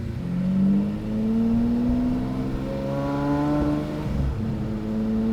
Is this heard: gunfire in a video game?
no